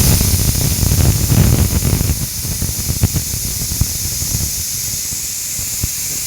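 A pressure cooker holding a mushroom and capsicum curry lets off steam in a loud, continuous hiss that is strongest at first, then eases into a steadier, softer hiss with small sputtering crackles.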